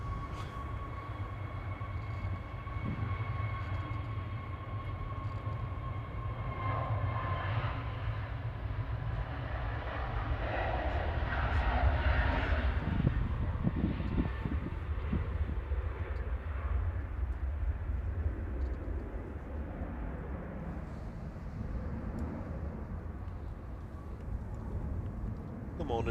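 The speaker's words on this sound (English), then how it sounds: "Jet 2 to Tenerife on the roll in the background." A Jet2 airliner bound for Tenerife rolls for takeoff at Manchester Airport, a low distant engine roar that swells and fades in the background while people talk.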